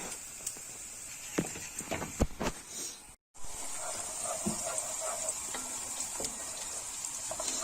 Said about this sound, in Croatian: Luk malo promješamo još dok se dimsta.